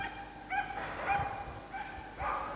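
Dogs bark and yip in two short bursts, a pair of quick calls near the start and another pair toward the end, at moderate distance over a low steady background hum.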